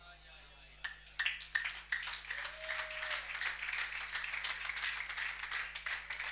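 Audience applause at a church service, a crowd clapping in a dense, sustained patter that builds after a few scattered early claps, with voices mixed in.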